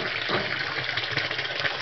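Tap water spills steadily into an animal drinking trough in a paca enclosure, a continuous broadband splashing and trickling close by, with no voices.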